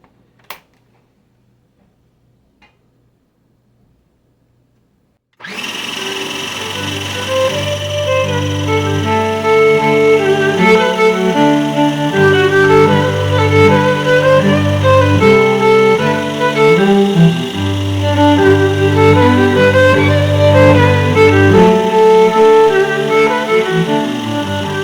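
An electric kitchen mixer whips cream into butter, switching on after several seconds of near silence and then running as a loud, steady whir close by.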